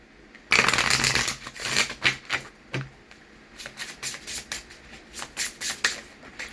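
Tarot cards are riffled and shuffled close up, a dense burst of rapid flutters at first followed by a string of shorter crisp riffles, with no talking.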